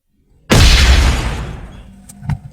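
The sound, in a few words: fight sound effect from CapCut sound library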